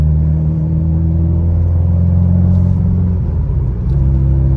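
An IAG 700 long block car engine runs at its first start-up, a loud, steady, close rumble with a slight rev toward the end, heard alone without talk.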